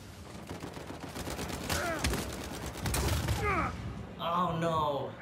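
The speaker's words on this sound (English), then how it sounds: "I'm getting shot." Gunfire in the video game Uncharted 4, a steady run of rapid shots in a sustained exchange, with players' voices talking over it.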